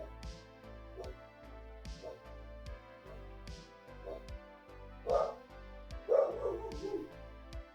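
A dog barks repeatedly at someone passing, sharp yips and woofs in an uneven rhythm over quiet background music in a home kitchen, growing louder toward the end.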